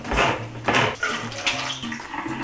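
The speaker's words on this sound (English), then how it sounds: "the first step is to drain and dry our chickpeas" Water from canned chickpeas pouring out and splashing into a sink in a home kitchen, a few close bursts of running and trickling water with no talk.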